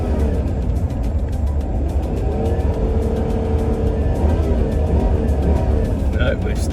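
A car struggling with a transmission that slips in second gear gives a steady, loud engine drone and road rumble throughout, with people talking over it.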